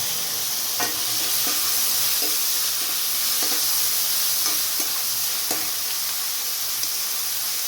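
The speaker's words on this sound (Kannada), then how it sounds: "ಬೆಳ್ಳುಳ್ಳಿ ಹಾಕ್ಕೊಂಡು ಫ್ರೈ ಮಾಡ್ತಾಯಿದ್ದೀನಿ. ಹಾಗೆ ಟೊಮೊಟೊ ಹಾಕ್ಕೊಳ್ಳಿ." Garlic and tomato fry in a pan for avalakki pongal, a steady bright sizzle with soft stirring clicks scattered throughout, close and continuous with no voices.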